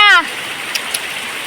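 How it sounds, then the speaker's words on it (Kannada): Heavy rain pours down in a steady, dense hiss that fills the whole moment, with a brief voice heard at the very start. "ಜೋರು ನೋಡಿ ಮಳೆ ಎಷ್ಟು ಜೋರು ಬರ್ತಾ ಉಂಟು"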